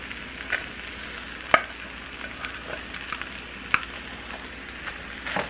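Rice being stir-fried with vegetables in a pan for Korean fried rice, a steady close sizzle broken by a few sharp scraping clacks of the utensil against the pan.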